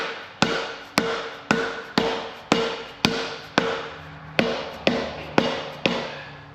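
Close, sharp hammer taps strike about twice a second in a steady, even rhythm, about thirteen blows in all, as a seal's inner ring is driven into a 3.5 EcoBoost engine. No one talks.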